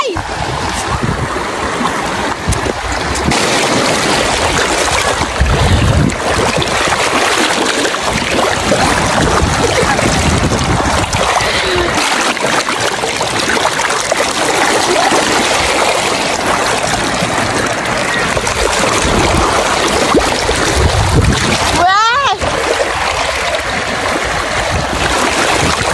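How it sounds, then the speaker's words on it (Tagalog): River water rushing and splashing continuously, loud and close, with people talking and exclaiming over the steady flow. "Ilog"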